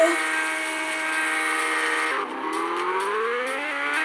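A motorcycle engine in the Real Bike Racing video game wails at high revs, a steady, buzzing whine that dips briefly before climbing again.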